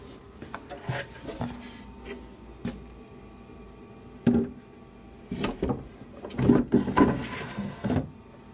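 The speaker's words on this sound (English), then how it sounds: "we're going to try one of the drawers in here to see if we have the paint far enough in on the sides" A wooden drawer in a painted night stand, built from an old desk, slides in and out several times with soft scrapes, bumps and knocks, close by and with no talking.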